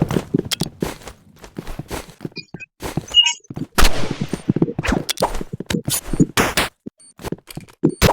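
Gunfire in a video game, sharp sniper-style shots cracking out at irregular intervals between footstep-like clatter and other game effects, loud and close, with no talk.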